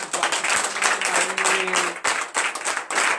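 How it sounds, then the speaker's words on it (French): A church congregation at a Thursday morning prayer service in Comè, Benin, applauds with dense, rhythmic clapping that runs continuously and loudly, with a brief held vocal tone rising underneath midway. "Merci de bien vouloir donner de vive acclamation à notre Seigneur"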